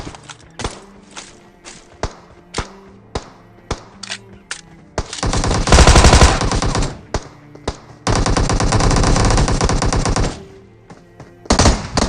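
Rapid automatic gunfire in an online shooter game, sharp isolated shots early on, then two long sustained bursts and a final short volley, loud and close with no talk over it.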